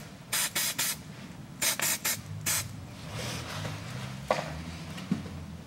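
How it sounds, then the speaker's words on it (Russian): Copper grease is sprayed onto the rear bolts of a 2012 Nissan Qashqai 2.0 during a front stabilizer bushing replacement, heard as several short close hissing bursts in two clusters followed by quieter handling noises. "Болты оба смажу медной смазкой."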